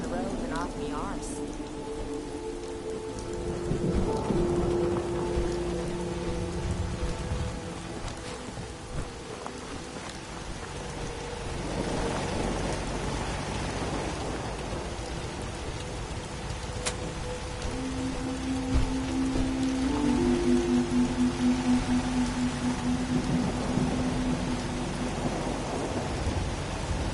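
Rain in Fallout 4 falls as a steady broadband hiss with low rumbles, lasting throughout while tonal game sounds and a few short voice-like bursts come and go over it.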